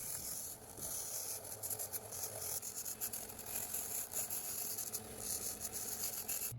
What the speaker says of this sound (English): and then clean it up with some hand files